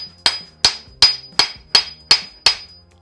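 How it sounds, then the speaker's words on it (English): A hammer chips old material out of an axe eye in a vintage axe: seven sharp, ringing metallic strikes at a steady, even pace, loud and close with no talk. "just take your hammer, watch your eyes because this is going to chip off."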